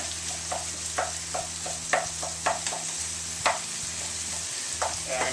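Meat sizzles steadily in a frying pan while a spatula repeatedly scrapes and chops at it, giving sharp irregular taps over the constant hiss, with no voices.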